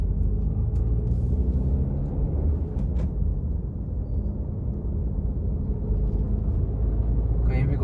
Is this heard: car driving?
yes